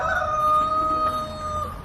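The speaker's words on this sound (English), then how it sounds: "Just so you guys can hear the roosters. Let's see if they crow." Roosters crow in a backyard chicken pen, one long sustained cock-a-doodle-doo call ringing out clearly for nearly two seconds over faint outdoor background noise.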